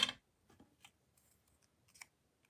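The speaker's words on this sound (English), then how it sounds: "I'm actually going to just trim the excess acetate off." Scissors trim excess acetate with one sharp close snip, then a few soft, faint cuts and small clicks in a quiet room.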